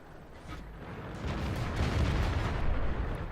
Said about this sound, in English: And look at all the bullets fly